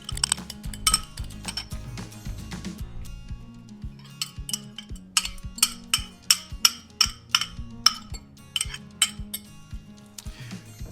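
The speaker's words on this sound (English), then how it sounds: "Whisk these together." Whisk clinking repeatedly against a bowl while beating an egg and an extra yolk into chocolate chip cookie batter, with quick rhythmic metallic taps up close and no talking.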